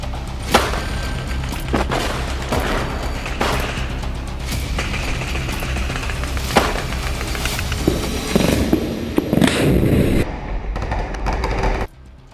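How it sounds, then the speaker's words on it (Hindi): Hamas anti-tank squad firing Yassin rockets from ruined buildings at Israeli targets, heard as a dense run of loud sharp blasts and gunfire-like cracks over constant rumble, with a heavier burst near the end before it cuts off. "इजरायली टारगेट पर यासीन रॉकेट दाग देते हैं"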